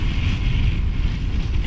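Strong gusty wind of about force 5 roars across a sailing canoe on a large lake, a loud continuous buffeting rush against the microphone with deep rumble and no speech.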